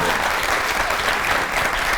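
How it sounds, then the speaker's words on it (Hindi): A television studio audience breaks into loud, dense, continuous clapping that fills the whole moment without pause. "लेकिन ये अभी ताली किस लिए बजी है?"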